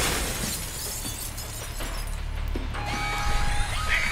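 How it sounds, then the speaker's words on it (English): Glass window shattering in the video game Alpha Protocol, a bright breaking crash over a steady low game hum, followed by scattered tinkling shards. "But you might be able to find a way to break the glass."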